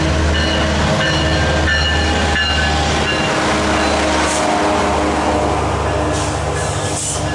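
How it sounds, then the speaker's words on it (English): Metrolink 626, the last southbound passenger train to Oceanside on the OC line with locomotive 917 leading, rumbles past loud and close with a steady roar, wheel noise and rattling cars throughout. "it's Metrolink 626. So this is the last southbound of the day to Oceanside"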